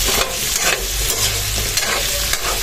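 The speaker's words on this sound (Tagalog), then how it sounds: "Hinahalo-halo natin hanggang sa mag-reddish na siya mga kagawad" Sautéed corned beef and diced potatoes stirred in a hot pan, with a spoon scraping and turning through a steady sizzle. The scrapes come in loud, close, repeated strokes and no voice is heard.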